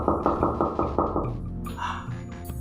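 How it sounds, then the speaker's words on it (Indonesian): Knocks on a door come in a quick series of six or seven sharp raps, followed by softer thuds and muffled sounds in a staged horror-comedy scene. "lalu terdengar lagi ketukan pintunya"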